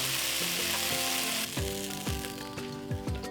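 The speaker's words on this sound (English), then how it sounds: "Stir fry the beef for about 2 to 3 minutes." Beef stir frying in a wok over high heat gives a loud, bright sizzle that eases off midway, while a spatula scrapes the pan in repeated rhythmic strokes.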